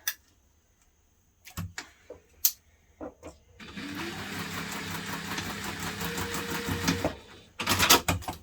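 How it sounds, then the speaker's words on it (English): A sewing machine stitches across the top of a fabric bag, a steady close mechanical whirr lasting several seconds, set between scattered clicks and handling noises. "So I'm going to stitch across the top here."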